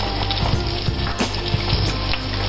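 Hot oil with golden fried garlic poured from a pan over sea bass, a steady close sizzle and crackle with small pops, lasting a couple of seconds with no talk.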